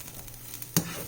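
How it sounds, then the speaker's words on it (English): Shrimp and broccoli sauté over medium heat in a pan, a soft steady sizzle with a brief sharp clatter near the end, quiet and without talk. "saute the pan a little bit."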